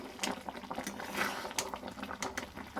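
Raw mango pieces stirred in thick simmering jaggery for a sweet-sour pickle, a continuous bubbling sizzle with soft irregular scrapes and splatters from the spoon.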